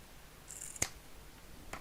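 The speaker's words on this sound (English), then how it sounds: "I have this roll of double-sided velcro, and if we just cut some off" Scissors cut double-sided velcro in a quiet room, with one short, sharp snip near the middle and a softer click just afterward.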